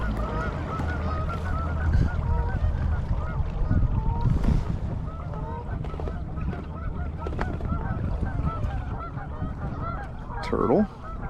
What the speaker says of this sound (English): if these birds would shut up.